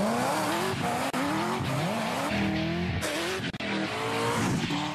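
A Chevrolet Corvette ZR1 brakes hard from 60 mph with loud, repeated tire squeals over a roaring engine, several distinct skid bursts up close with no talk.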